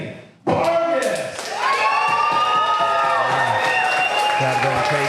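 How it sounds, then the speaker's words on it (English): A crowd at a live grappling event cheers, whoops and applauds loudly and continuously as a junior competitor makes his entrance, a sudden roar swelling after a brief quieter moment and holding steady with shouts throughout. "Crowd going crazy for young Anthony."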